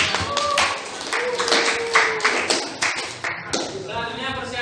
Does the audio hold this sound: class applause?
yes